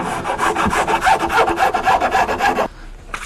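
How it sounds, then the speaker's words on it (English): Sandpaper rubbed back and forth against the trimmed fret ends of a guitar, a close, rapid rhythmic rasping of about a dozen strokes that stops abruptly near the end, leaving quiet. "I just use the sandpaper on the same way, just hold it on there."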